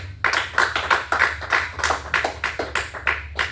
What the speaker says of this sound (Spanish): fuerte aplauso a Él